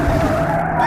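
A jeep's tires squeal and skid at speed in one sustained, loud, close screech lasting under a second, with engine noise beneath.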